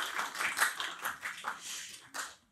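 Audience clapping for the teachers at the close of a ceremony, light scattered applause from a modest crowd, fairly faint and fading out at the end.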